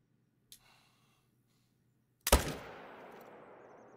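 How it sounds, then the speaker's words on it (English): A single sharp, loud long-range rifle shot in the hunting game Call of the Wild, its report trailing off in a lingering echo, preceded by a faint click. "That's a crazy long shot."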